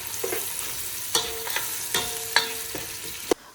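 Two large onions and two large tomatoes cooking in a pan for a chicken-and-chickpea curry, with a soft sizzle beneath a handful of sharp metallic clinks and scrapes as a spoon stirs at irregular intervals.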